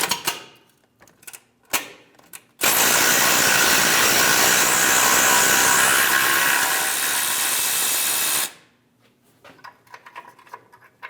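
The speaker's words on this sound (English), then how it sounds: "Using a 13mm socket, remove the bolt for the brake line." Power tool running on a 13mm socket to remove a brake line bolt on a Ram 1500, a steady loud whirring burst lasting about six seconds, with scattered clicks and handling noises before and after.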